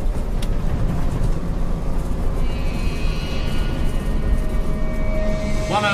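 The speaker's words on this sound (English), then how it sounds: "Both engines sound an even note, and we're going down the runway now for a takeoff." A loud, even jet engine drone from an airliner's two engines at full takeoff power on the runway, with a steady tonal whine, rising pitch sweeps appearing near the end as the aircraft accelerates.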